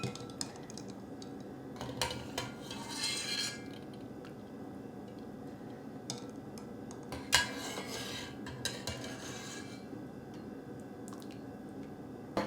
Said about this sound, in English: we've hard boiled and we're gonna slip them into this ice bath